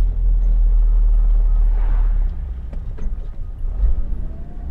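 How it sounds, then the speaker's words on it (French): Garbage truck in a driving video game, a steady low engine rumble that holds loud for a couple of seconds, then eases and wavers as it passes. "Hop là, le camion de poubelle."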